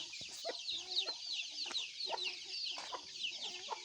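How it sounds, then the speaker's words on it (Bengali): Chickens cluck in short repeated bursts at dawn in Khemchong Para, a remote hill village in Bandarban, close and clear over quiet morning air with a rooster's call among them. "পাখির এই যে মুরগির আনাগোনা শুরু হয়ে গেছে"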